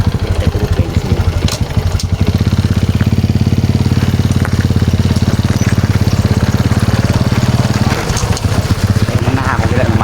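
A motorcycle engine runs steadily at close range, a low, even throbbing drone that keeps going without a break.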